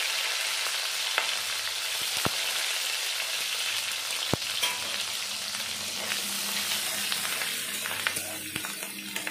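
Chopped onion and whole garlic fry in a pan, a dense continuous sizzle with occasional sharp clicks of a utensil against the pan, close and fairly loud, with no talking.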